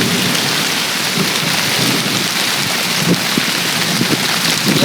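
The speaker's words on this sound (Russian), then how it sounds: "Гремит, молния." Rain falls steadily during a summer thunderstorm at a country dacha, a dense loud hiss with low rumbles of thunder rolling underneath, and no voices.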